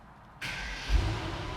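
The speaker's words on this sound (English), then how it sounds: "you can hear that V8" A Mercedes-AMG V8 sports car engine fires up with a sudden burst, then settles into a deep, steady rumble close by.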